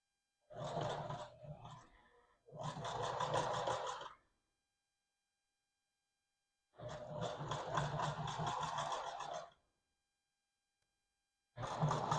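Sewing machine running a seam through upholstery foam for a 1968 G20 van interior, three bursts of close motor whirr separated by silent pauses.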